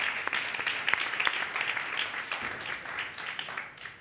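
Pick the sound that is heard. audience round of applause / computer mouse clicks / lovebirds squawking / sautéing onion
audience round of applause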